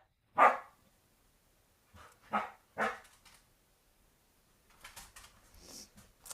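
A small dog gives a few sharp yips and barks, spaced apart, followed by softer whimpering sounds at low volume.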